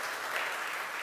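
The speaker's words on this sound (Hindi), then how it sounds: "तालियां बजा लो।" An audience claps at a religious discourse, with brief, faint, dense applause.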